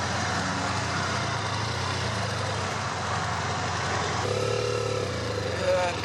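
A 2012 BMW F800ST motorcycle engine drones steadily while riding, with a gear shift partway through changing the engine pitch. The sound is heard under heavy wind rush, with some talk.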